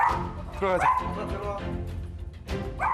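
A family of Chihuahuas, a mother and daughter, barks and yips excitedly at a visitor arriving at the door of their home. Short, sharp, high barks come in quick bursts near the start and again at the end, with people talking around them.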